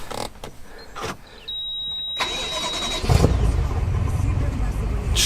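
A car with a flat battery cranks weakly and sluggishly for a few seconds before its engine catches and settles into a steady, close idle.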